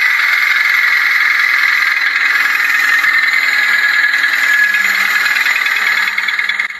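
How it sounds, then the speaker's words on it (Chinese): A car engine with heavy sludge and carbon buildup that burns oil, running with a loud, steady metallic rattle and knock close up, continuous and alone with no talk. "而且发动机还传出咔咔异响声"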